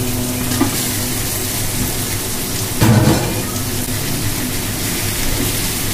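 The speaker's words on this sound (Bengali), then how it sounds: "মাছগুলো দিয়ে দেবো এখন।" Fish and vegetables fry in a pan with a loud, steady sizzle, broken near the midpoint by a brief louder burst as more goes into the hot oil.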